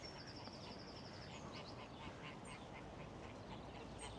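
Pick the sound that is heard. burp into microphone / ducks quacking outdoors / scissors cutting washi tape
ducks quacking outdoors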